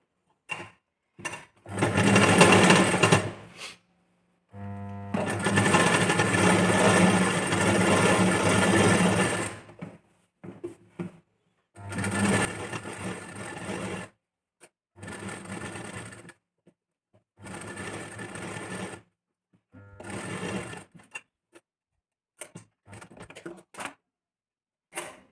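A domestic sewing machine stitches a hook strip onto a princess-cut boat-neck blouse in repeated bursts of rapid mechanical whirring, separated by short silences, close and fairly loud.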